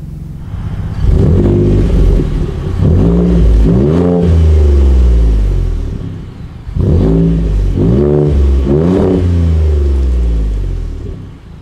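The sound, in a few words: 3.5 liter EcoBoost engine starting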